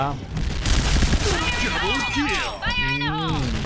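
Rapid automatic rifle fire from a Pindad SS3 in the shooter game Point Blank, loud bursts of gunshots mixed with explosions and clinks, while a voice talks over the action.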